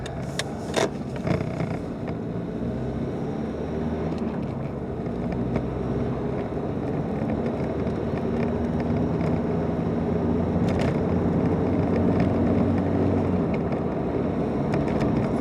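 Car interior road noise while driving: a steady, loud low rumble and broadband hiss that stays constant throughout, close and enveloping, with no voices.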